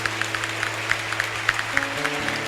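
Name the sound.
church congregation applause for mothers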